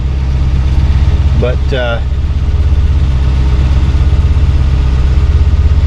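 A 1972 Mercedes-Benz 280 SE 4.5 engine idles steadily up close at a little over 1,000 RPM, a low even rumble with a slight pulsing beat, while someone speaks briefly over it.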